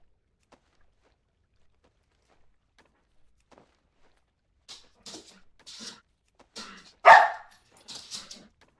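Puppies bark in a video game: a few short, scattered yaps and woofs break an otherwise near-silent stretch, with one louder bark standing out late.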